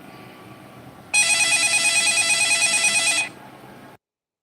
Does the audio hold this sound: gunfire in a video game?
no